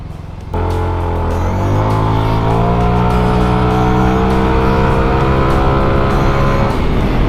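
A scooter with a stock CVT torque spring accelerates steadily, its engine note climbing slowly in pitch after a sudden start, loud and close throughout with no talking.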